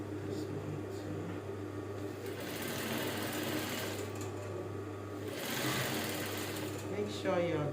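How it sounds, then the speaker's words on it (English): A sewing machine steadily stitches darts on trousers, its motor humming and whirring continuously at close range with slight surges in speed, while a person talks faintly in the background. "Just sew my dart."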